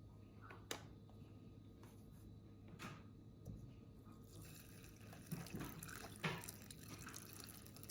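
Turkey drippings broth being poured into a dish of Thanksgiving dressing, soft liquid trickling and splashing with a few kitchen clatters, moderately faint and close by.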